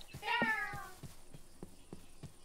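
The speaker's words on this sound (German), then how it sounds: "der Dodo hat einen Lärm gemacht wie eine Katze." A dodo from modded Minecraft (Pixelmon) gives a single cat-like meow that rises and falls near the start, followed by a series of soft, regular clicks or footsteps.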